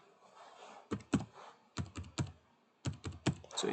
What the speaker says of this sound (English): Just type your account number.